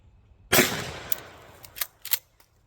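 A 20 gauge Remington 870 shotgun with a rifled choke tube fires a single rifled slug, giving one sharp, loud blast that decays over about a second, followed by a few faint clicks.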